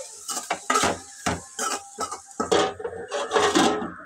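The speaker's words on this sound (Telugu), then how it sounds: "ఈ మసాలాలన్నీ బాగా పట్టేలా ఒకసారి కలుపుకోవాలి" A spoon stirs coriander powder and garam masala into a prawn and raw mango curry in a pan, sounding as a series of close, irregular metallic clanks and scrapes against the vessel.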